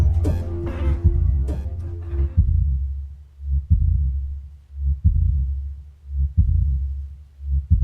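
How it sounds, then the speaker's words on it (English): A slow, heavy heartbeat thumps steadily and loudly as a sound effect, low and close, following a brief fading tonal swell at the start. "I still have heartbeat."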